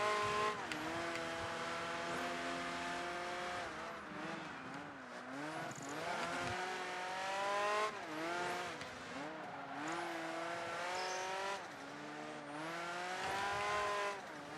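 Race car engines in Project Gotham Racing 3 scream continuously, with gear-shift dips and rising revs and an occasional tire squeal, loud and close with a second car following behind, no talking.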